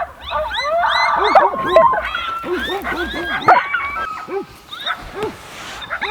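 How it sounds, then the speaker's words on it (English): Yipping and wavering howls from coyotes in New Mexico under a full moon, a rising and falling chorus of high calls at moderate distance, with several short yelps scattered throughout. "There's a coyote right here."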